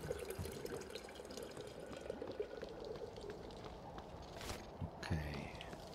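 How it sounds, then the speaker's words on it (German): Water runs steadily from a tap in the video game Prey while a character drinks, a continuous splashing pour with faint footsteps and small clinks near the end. "So, wir können auch ein bisschen Wasser trinken."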